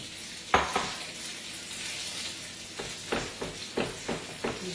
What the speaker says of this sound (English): And I'm just going to now pour the rest of this in.